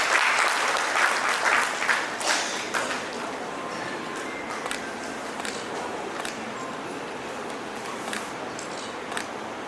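Applause at a principals' conclave begins full and close, then thins to a lighter, scattered patter of hands, with a few sharper individual claps standing out as it fades.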